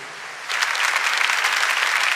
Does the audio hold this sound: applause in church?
yes